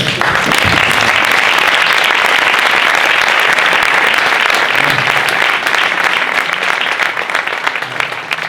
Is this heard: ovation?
yes